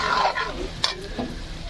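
Green chillies and onions fry in a wok with a steady, close sizzle. A brief stir and a couple of soft scrapes sound partway through.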